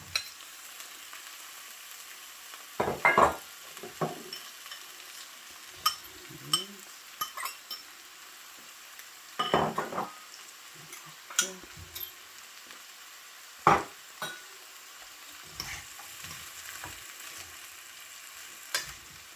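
Carrots and broccoli stir-frying in a pan, a soft steady sizzle broken by scattered clinks and scrapes of a utensil stirring against the pan.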